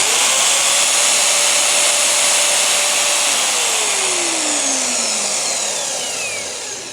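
A Vevor portable band saw running at maximum speed gives a loud, continuous high whine with a steady motor hum, a tone that slides lower midway and fades slightly toward the end.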